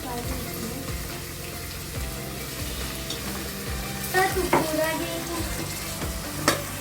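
Mint, onion, green chili, tomato and curry leaves fry in a pan with a steady sizzle, while occasional stirring scrapes and a few sharp clinks stand out near the end.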